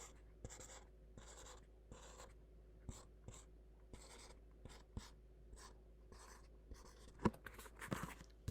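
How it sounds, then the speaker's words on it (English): A pen scratches across paper in short bursts of strokes separated by brief pauses, close and quiet, with a few light taps as the writing moves along. "let's write this up here."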